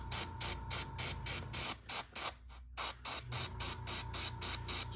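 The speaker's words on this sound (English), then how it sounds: "And I'm listening to the airbrush gun for flaws." An airbrush gun spraying patent leather sealer in short, even bursts, about two each second, a near hiss with a brief pause midway.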